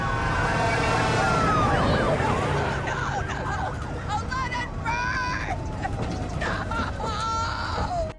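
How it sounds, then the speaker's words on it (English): Fire truck sirens wail in a Halloween film scene, several rising and falling tones overlapping at moderate distance over a murmur of crowd voices and background noise. "Laurie hears the sirens of the firefighters and she's freaking out"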